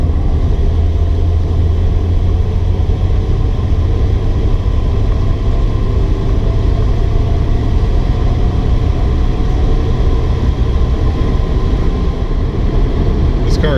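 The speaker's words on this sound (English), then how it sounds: "I'll come to a stop up here, a rolling stop, and keep it in high gear." A 1937 Packard Super 8 Victoria Coupe cruises in high gear toward a rolling stop, its engine a steady, close, low drone with road rumble that holds evenly throughout, with no clear change in pitch or loudness.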